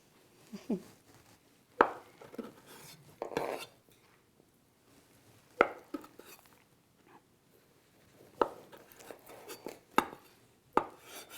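Knife chopping tomatoes on a cutting board while making caprese salad, a series of sharp close knocks in irregular clusters with quiet gaps between them.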